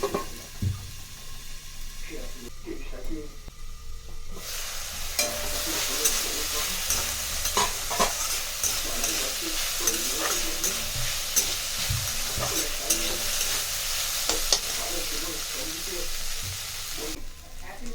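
Mushrooms and peas sizzle steadily in a hot pan while a spatula stirs them, with repeated scraping and tapping strokes over the continuous frying hiss.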